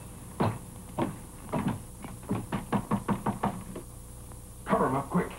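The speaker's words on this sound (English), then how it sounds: "We'll knock on the door." Knuckles rapping on a wooden door in an old Western film, a few spaced knocks followed by quicker bursts of raps, fairly close and clear, with voices briefly around the knocking.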